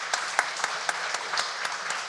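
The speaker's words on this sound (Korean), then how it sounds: "우리 입교한 우리 8분에게 우리 축복과 환영의 박수 하도록 하겠습니다." Church congregation clapping together during a Sunday worship service to welcome eight new members, a steady patter of many hands in a moderately sized room with a few louder individual claps standing out, no voices.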